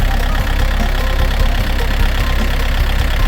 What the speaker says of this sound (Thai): เครื่องยนต์ก็จะเป็น บล็อกของยันมาเลยครับ